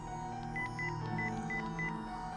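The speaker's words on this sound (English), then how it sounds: "I selected Nanami's number and pressed the call button." Phone dialing tones in the Chaos;Head Noah visual novel: about six short, evenly spaced beeps in a steady sequence over a constant low background hum.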